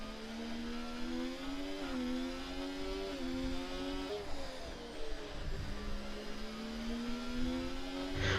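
A 1993 Ferrari racing car engine in a racing video game screams at high revs during a qualifying lap at Spain, its pitch dipping and climbing through gear changes, loud and alone with no talk.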